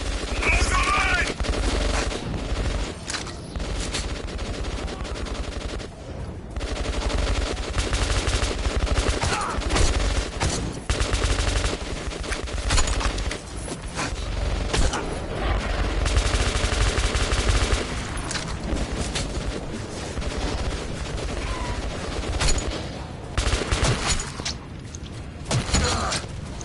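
Heavy gunfire in the video game Metro 2033 Redux, repeated bursts and single shots at close range, with shouting voices and clatter between volleys.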